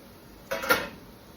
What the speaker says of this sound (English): Into the canner these go, boiling water.